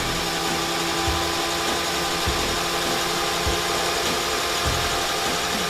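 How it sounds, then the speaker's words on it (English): A Perendev magnet motor spins at high RPM with a steady, dense whirring hum and faint periodic thumps, continuous and close, with no voices. "The motor operates at high RPM."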